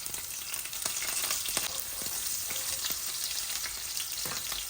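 Garlic sizzles in hot oil in a pan for a Bengali saag and dal curry. The steady, close frying hiss runs throughout, with a few faint clinks from stirring.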